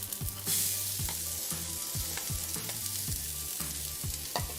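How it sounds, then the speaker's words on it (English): Mirepoix sizzles and fries steadily in a pan, with rhythmic stirring or scraping strokes over the constant hiss at moderate, close level. "listen for that sizzle"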